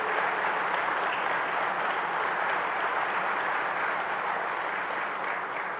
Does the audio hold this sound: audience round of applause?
yes